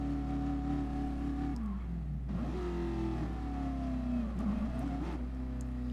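Ford GT40 racing car engine in Gran Turismo Sport, a loud, close, continuous buzzing roar that revs up and down with gear changes and throttle lifts, no voices over it.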